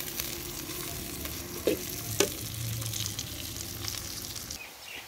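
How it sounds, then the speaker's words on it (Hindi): Chopped onions frying in oil in a pan for radish greens saag, a steady close sizzle with a couple of sharp clinks from stirring and no talking. "प्याज को लाइट ब्राउन होने तक फ्राई करेंगे ऑयल में"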